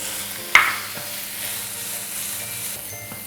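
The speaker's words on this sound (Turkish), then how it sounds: "Birkaç dakikada soğanla kıymayı birlikte kavuracağım." Minced meat and onions sautéing together in a pan, a steady close sizzle with a sharp clank of a utensil early on and a softer tap later, no voices.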